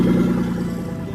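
A Toyota TB42 engine idles steadily while its idle speed is being adjusted, a close, even low rumble with no voices over it.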